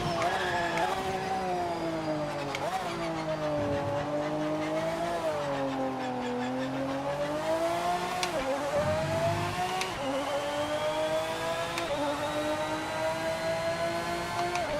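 A Maserati race car in the game Project Motor Racing howls through rising and falling revs, its engine note sweeping up and down continuously at close range, with brief tire noise between shifts.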